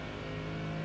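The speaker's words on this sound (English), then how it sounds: "obviously the Mustang is another level. Sounds like an actual NASCAR car." Mustang GT3 race car engine in the iRacing sim, a continuous droning roar at steady revs, fairly quiet and heard alone without talk.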